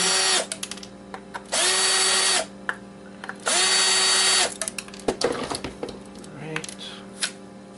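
Power drill unscrewing screws from scrap electronics, heard as two sustained whirring runs of about a second each with clicks and small metallic clatter of parts and screws between them.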